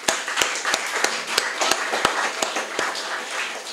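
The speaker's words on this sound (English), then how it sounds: "And let's give them a round of applause." A small audience at a jazz event in Grenada claps steadily, with sharp individual hand claps standing out in an irregular rhythm over a softer wash of applause, fairly close and continuous throughout.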